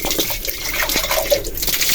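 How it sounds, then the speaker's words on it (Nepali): Water is poured for panipuri in a steady, busy liquid wash with faint dripping and bubbling, continuous and close throughout, with no voices. "चल पानी हाल्दै"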